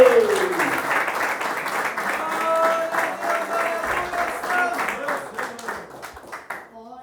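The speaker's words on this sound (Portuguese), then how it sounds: "Bate palmas, dá glória a Deus!" Church congregation clapping and praising during a Portuguese-language sermon about the fall of Jericho, steady applause under loud overlapping voices and shouts of praise, fading near the end.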